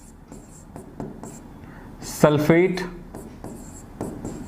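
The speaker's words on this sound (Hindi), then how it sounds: "चलिए पहला नाम लिखता हूं" Chalk or pen writing a chemical formula during a chemistry lesson, soft scratchy strokes in short bursts, close, with someone speaking briefly in the middle.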